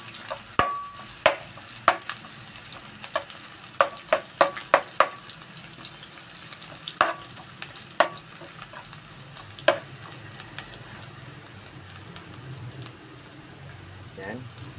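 Garlic and onion aromatics sizzle in a pan for pork leg adobo, a steady low fry broken by sharp stirring clicks and clatters, heavier in the first half and settling into a softer crackle.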